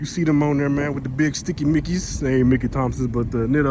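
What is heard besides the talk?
None of the usual background noises is heard.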